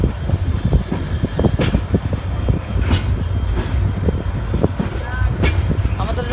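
Kurigram Express train pulling out of Rangpur station, a steady rumbling rail roar with clattering wheels and occasional sharp squeals and clanks, with people talking nearby over the din.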